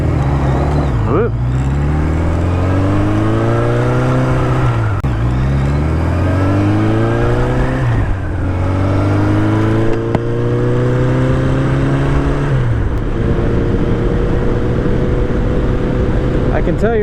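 A Kawasaki Z1 motorcycle engine revs loud and close, climbing in pitch through repeated pulls with drops at each gear change, then settles into a steadier drone.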